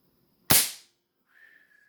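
A Crosman Pumpmaster 760 BB gun fires once, a sharp close crack that decays quickly, followed by a faint high whine.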